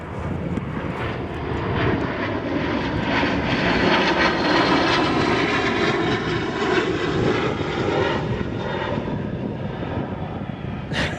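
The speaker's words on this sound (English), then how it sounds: "So that was a plane flying by." A propeller or fixed-wing airplane passes overhead outdoors, a steady broad engine roar that swells toward the middle and stays loud throughout, with no one speaking.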